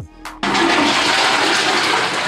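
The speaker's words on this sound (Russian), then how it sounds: "А сейчас набирается полный унитаз и уходит медленно." A toilet in a home plagued by sewage backups flushes with a click, then a loud, rushing torrent of water fills the bowl and drains steadily, close up and without talk.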